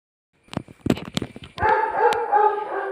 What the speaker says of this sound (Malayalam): ഞങ്ങളുടെ പട്ടി കിടന്ന് നല്ല കുരയുണ്ട്